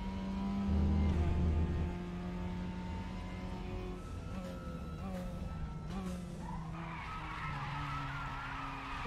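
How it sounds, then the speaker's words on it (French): Race car tires squealing in the RaceRoom racing video game, a sustained skidding screech with engine tone underneath, loud and close, shifting pitch as the car slides. "le bruit de crissement des pneus était un peu plus haut sur cette voiture"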